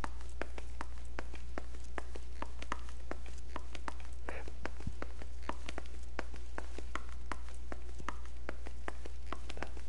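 Loud squeaky footsteps in a video game tap along in an even, quick rhythm, each step a sharp click over a constant low hum, with no voices.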